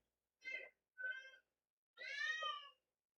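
A house cat meows loudly three times close by, two short calls followed by a longer drawn-out yowl, in an otherwise quiet room.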